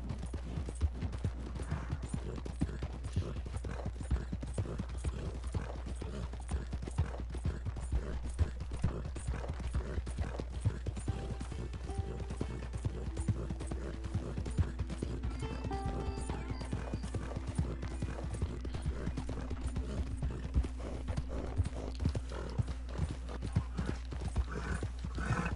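Horse hooves clip-clopping steadily while riding through Red Dead Redemption 2, a continuous trotting rhythm with an occasional whinny, low rumbling ambience and faint game music beneath.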